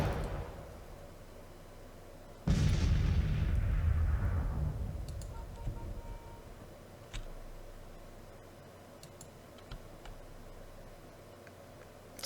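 Cannon or artillery blast in the Civil War strategy game Grand Tactician, a sudden loud boom with a long rumbling decay, then a faint distant shot and scattered small ticks over a quiet battlefield background.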